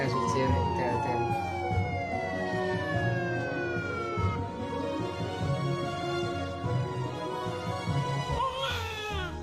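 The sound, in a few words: ambulance siren in a cartoon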